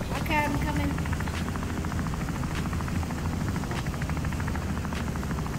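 Helicopter in the video game Wobbly Life, a steady rotor drone with rhythmic chopping pulses running the whole time under a player's talk.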